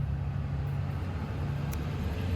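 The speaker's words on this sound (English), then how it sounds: "It's a little noisy with these trucks and trailers." Trucks and trailers roll past on a nearby road, a steady low rumble and broadband road roar that holds without a break throughout.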